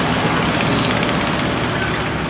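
A passenger launch's engine runs steadily at a Bhola river dock in Bangladesh, a loud constant low rumble and drone with no break across the moment.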